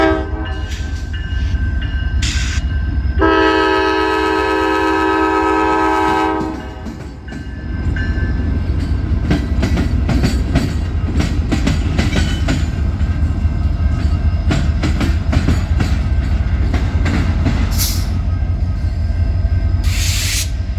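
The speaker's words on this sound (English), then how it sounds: "Thoroughbred -9 NS 9721 along with SD70 M-2 NS 2749 would lead 394 over the diamond" Norfolk Southern freight train 394, led by Thoroughbred -9 NS 9721 and SD70M-2 NS 2749, rolls over a rail diamond crossing with a long loud horn blast, then heavy continuous rumble and rhythmic wheel clatter close by.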